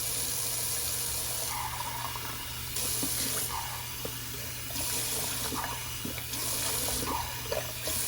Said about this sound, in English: let me just actually rinse that out because it's looking gross